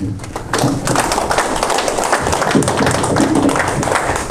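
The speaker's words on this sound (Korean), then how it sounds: "강사님을 큰 박수로 환영해 주시면 고맙습니다." Steady applause from a lecture audience, dense clapping that carries on evenly for several seconds in a large room.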